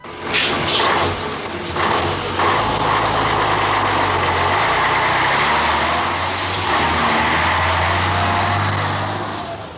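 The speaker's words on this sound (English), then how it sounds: "Like the rock band they service, the trucks are noisy, modern and effective." Heavy trucks carrying a touring rock band's equipment rumble past at close range, with a loud, sustained low engine drone and a few sharp mechanical clanks near the start.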